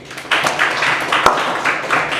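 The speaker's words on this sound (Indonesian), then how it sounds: "Matthew Oliver dan Aliosa, tepuk tangan dulu." Classroom applause from high school students after a dance evaluation activity, a steady patter of clapping lasting about two seconds, fairly close and moderately loud.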